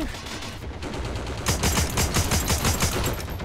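Rapid automatic gunfire in the World War II shooter Heroes & Generals rattles out in dense, close, evenly spaced bursts that grow louder and sharper partway through.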